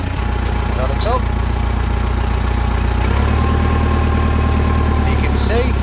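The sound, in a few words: Case 895XL tractor engine running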